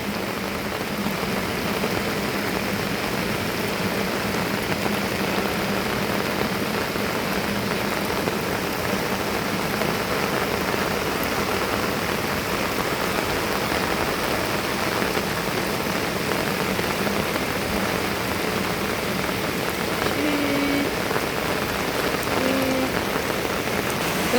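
Steady, dense rain pours onto surfaces outside a house during a storm in the Khao Lek Fai area, a continuous wash of close patter with no voices.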